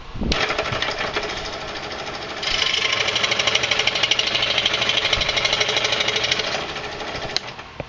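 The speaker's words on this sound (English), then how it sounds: "I'm going to cut it off down here a little ways so we have enough room to work with this thing with our fingers." A power tool cuts through a wooden dowel being made into a Cherokee four-hole whistle, producing a loud, steady buzzing whine close by that grows louder midway as the blade bites in, with no talking.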